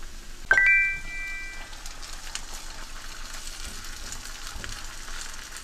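Shallot and garlic frying in a pan, with a sharp metallic ting early on, then a faint, even sizzle that carries on unbroken.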